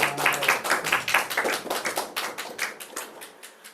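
A small group claps in a steady rhythm at a church service, and the clapping gradually fades and thins out toward the end.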